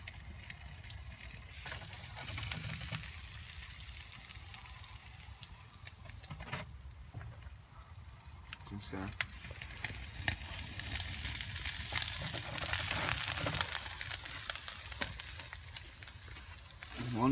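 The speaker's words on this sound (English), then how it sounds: "So we've got the quickest bacon cooker in the world. Cooks bacon in less than a minute." Bacon strips sizzle in a very fast bacon cooker, a steady dense crackle and spatter that swells slightly toward the end, with no talking over it.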